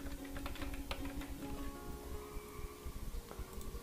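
Typing on a computer keyboard while entering text into CAD and GIS software, with a steady run of light, quick key clicks close by. No one speaks.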